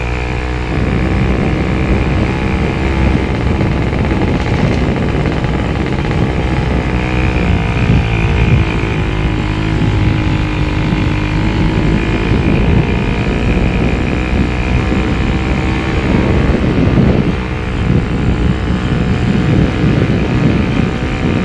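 A loud motorcycle engine drones continuously, rough and close, with wind buffeting the microphone and slight shifts in pitch as it revs.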